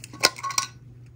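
A tool mixes black glitter into resin in a cup, producing a few brief clinks and scrapes within about a second, close and distinct, then quiet.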